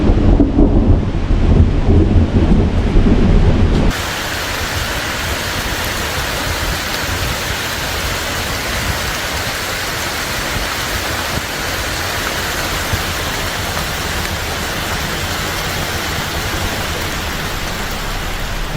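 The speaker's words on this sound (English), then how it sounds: "Okay, the rain is coming a little bit," Heavy rain and rolling thunder sound from outside a tent at night near a golf course, starting with a deep rumble, then settling into a steady, loud hiss of pouring rain.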